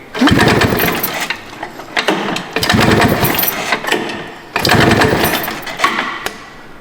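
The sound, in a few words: pulling the recoil starter on a Kawasaki engine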